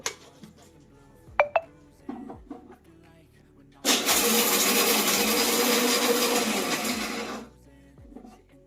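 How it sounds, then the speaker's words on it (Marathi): After a few clicks and knocks, a mixer grinder grinding fried dry fruits roars loudly for about four seconds, a dense whirring grind, then stops abruptly. "आता आपण हे ड्रायफ्रूट जे तळून घेतले होते ते मिक्सरला फिरवून घेऊया"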